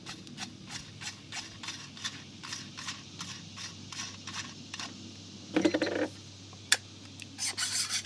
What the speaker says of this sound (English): Remove your lock ring.